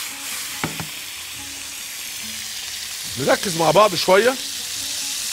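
Chicken fillet pieces frying in a pan, a soft continuous sizzle running throughout, with a few brief clattery stirring bursts near the end while someone speaks briefly over it.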